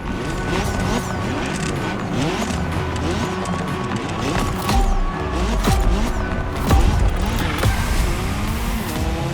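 A race car driven hard in The Crew Motorfest, with a steady engine drone rising and falling through gear changes, plus sharp transient hits and a brief tire-like squeal, loud and continuous throughout.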